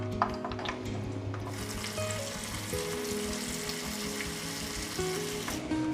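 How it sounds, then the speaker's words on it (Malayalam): Chicken pieces deep frying in hot oil for Japan chicken, a continuous close sizzle and bubbling that grows busier partway through, with no talking. "ബാക്കിയുള്ള പീസസ് നമുക്ക് ഇതുപോലെ തന്നെ ഫ്രൈ ചെയ്തെടുക്കാം"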